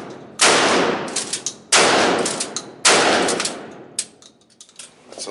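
Three loud, sharp blasts from an Ithaca 37 Featherlight pump shotgun are fired at steady intervals, each followed by a decaying echo and the clack of the pump action, then quieter handling noises.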